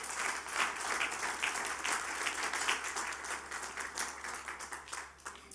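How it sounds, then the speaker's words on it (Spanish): A church congregation at a Spanish-language service applauds in praise, a full, continuous wash of clapping that swells and then slowly thins toward the end. "denle un aplauso al Señor"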